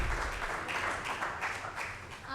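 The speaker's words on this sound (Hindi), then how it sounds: "चलिए भूमि कौशिक के लिए जोरदार तालियां" Applause from an audience at an open-mic poetry event as a performer is welcomed, a dense wash of clapping that swells and dips in waves, with some voices mixed in.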